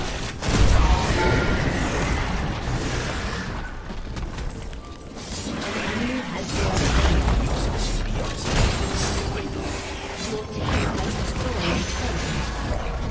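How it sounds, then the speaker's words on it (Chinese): Cannon barrage explosions from Gangplank's ultimate in a League of Legends match against Aatrox: dense, continuous booms and rumbling blasts layered with mechanical clanks and game effects, loud and sustained throughout. "大炮又来了，快跑！"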